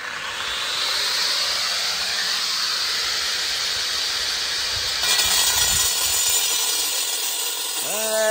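Angle grinder cutting close to a wall, a loud sustained hissing whine that runs steadily throughout and shifts in pitch partway through, ending with a short falling tone.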